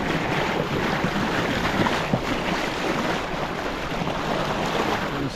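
Sailboat running at sea at about 5.4 knots on a solo passage toward the Canary Islands, with steady broadband wind rush and wash of waves against the hull, continuous and fairly loud throughout, no voices.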